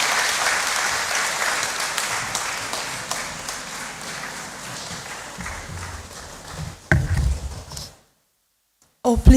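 A conference crowd claps to welcome a speaker to the podium at an annual New Year school and conference, sustained applause that thins out, then a few loud close thumps and a short silence before a voice begins.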